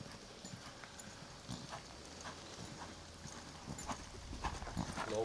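A horse lopes with soft, rhythmic hoofbeats in a repeating three-beat pattern. The clip-clop is fairly faint and distant over a quiet outdoor background.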